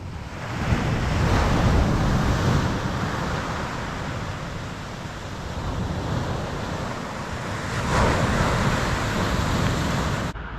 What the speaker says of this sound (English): That sound of that sea is so incredible, it's unreal.